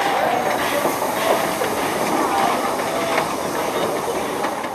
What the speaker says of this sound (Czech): jízda historickým vlakem s parní lokomotivou, který vyrazil z Valašského Meziříčí do Vizovic